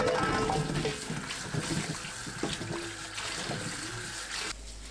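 Ponytail radishes are scrubbed and washed in water: soft sloshing, trickling and rubbing sounds continue nearby for several seconds, then thin out at the end.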